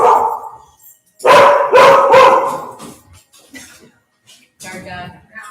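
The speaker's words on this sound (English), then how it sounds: "Our dog." A dog barks in a few loud, close bursts, followed by quieter sounds and some faint talk toward the end.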